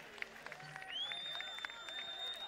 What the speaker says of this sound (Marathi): टाळ्या वाजवा सर्वांनी दोघांसाठी.